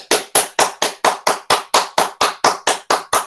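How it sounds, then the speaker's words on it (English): A group clapping hands together in a steady, even rhythm, about four loud, crisp claps per second, continuous and close with no talking. "So start clapping like this."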